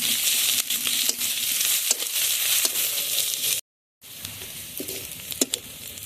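Onion and garlic fry in a pan for Bengali chola shak bhaji, a steady close sizzle with soft stirring scrapes, broken by a brief silent gap before the crackling resumes.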